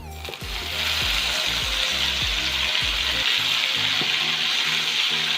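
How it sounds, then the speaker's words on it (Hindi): Marinated okra for dhaba-style bhindi masala frying in about three tablespoons of hot oil, giving a loud, steady, close sizzle that holds evenly throughout with a faint low hum behind it. "अब इसमें हम डालेंगे ये मैरिनेट की हुई भिंडियाँ।"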